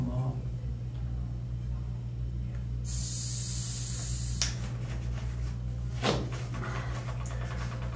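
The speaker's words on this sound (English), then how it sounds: "Got to let a bit more air out because I'm fighting it." Air hisses out of a bicycle tire's inner tube valve in one steady, sharp burst lasting about a second and a half, heard close against a low background hum.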